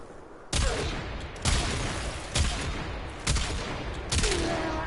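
Four heavy, evenly spaced gunshots from the Quartakk rifle in the Warframe video game, each with a sharp attack and a long ringing tail, loud and close.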